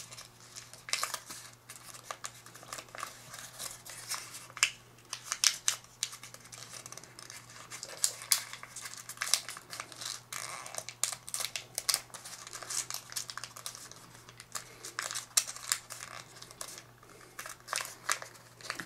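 Close, soft crinkles and crisp rustles come in uneven bursts as origami paper is folded and creased for a jumping Qbert model, with quiet gaps between the folds and no voices.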